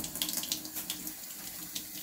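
Tap water runs steadily into a sink while ingredients for trompo tacos are washed, a close, continuous splashing stream with small irregular spatters and no voices.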